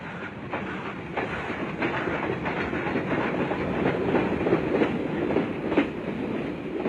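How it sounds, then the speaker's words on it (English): CC50 articulated Mallet-type steam locomotive train, built by Werkspoor of Amsterdam in 1927, running on a mountain railway in West Java; a steady rumbling roll with rhythmic clickety-clack of wheels over rail joints, close and continuous. "the most common type being these CC50 Class 2660s, designed and built by Werkspoor in Amsterdam in 1927"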